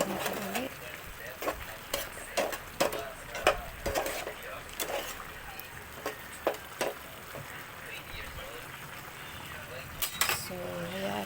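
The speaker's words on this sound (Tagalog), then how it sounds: "So haluin natin ulit." A spoon stirs chicken estupado in a pan during home cooking, with a series of scattered scraping clinks and taps over a soft background, while a person talks in between.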